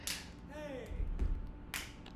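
Stomps and claps recorded on a single microphone in the middle of a room, layered into a music track: a couple of bright slap-like hits and low thuds over a sustained musical bed.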